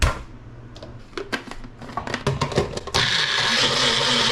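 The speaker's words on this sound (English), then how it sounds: "we're gonna blend up half an onion" A blender purees half an onion and garlic: a run of short pulsed bursts and clattering chops gives way to a steady, loud continuous whir in the final second and a half.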